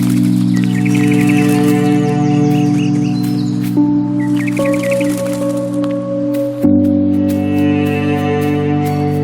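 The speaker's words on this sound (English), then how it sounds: "the simple shapes imitating birds, the sound of nature hearing winds brush up against the surfaces of plant life in the forest" Stylized, musical bird chirps and soft nature tones from the video game Gris play against sustained synth chords, with gentle wind-like brushing across forest plants.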